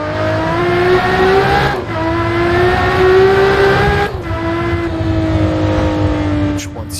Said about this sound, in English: Have this wonderfully sounding V12 sitting right behind us